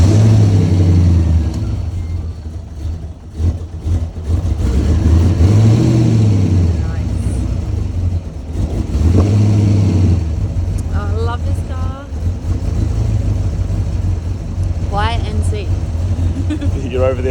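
A Ford Fairlane 5.0 V8, repaired with used parts, idles with a steady deep rumble and swells in a few revs, with people talking over it.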